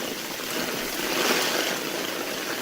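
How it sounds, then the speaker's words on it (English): Steady hiss of heavy rain during a rainstorm, with water rushing and trickling into a French drain setup with double barrel tanks and white pipe, a continuous broadband wash without pauses. "this is the new setup in the middle of a rainstorm"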